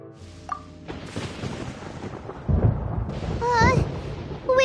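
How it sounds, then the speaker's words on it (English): Thunder rumbles in a Genshin Impact game scene, a low booming roll that swells louder in the second half, mixed with game sound effects and brief tonal chimes. "Paimon hears thunder!"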